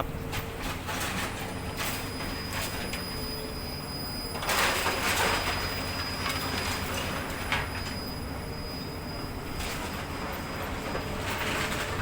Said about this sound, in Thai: ตอนนี้ขบวนรถพิเศษสินค้าขบวนที่ 985 จากสถานีกรุงเทพไปทางสุไหงโกลกกำลังจะเข้าจอดสถานีราชบุรีแล้วนะ